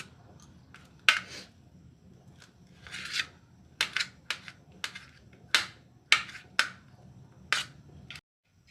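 A knife chopping a potato into pieces on a board, a dozen or so crisp, sharp cuts at an uneven pace, close and clear in a quiet room with no talk.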